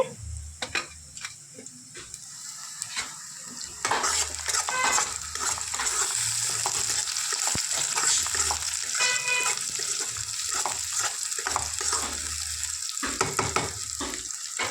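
Chopped onions and green chillies frying in a pan for an onion egg fry, a steady close sizzle with scattered stirring clatter and scraping, no voices.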